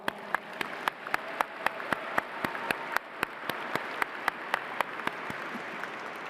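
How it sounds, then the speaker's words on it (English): An audience applauds at a police graduation ceremony, with sharp claps standing out in a steady rhythm over a bed of crowd noise for several seconds. "Another round of applause."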